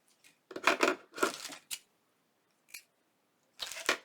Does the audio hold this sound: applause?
no